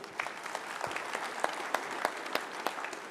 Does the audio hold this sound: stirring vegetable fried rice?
no